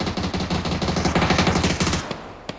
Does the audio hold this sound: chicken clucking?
no